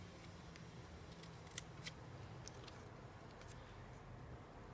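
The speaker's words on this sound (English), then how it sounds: "So just take the scissors and you're going to cut" Scissors snip through paper while trimming pages for a small handmade mini notebook, giving a few quiet, crisp clicks and cuts against faint room hiss.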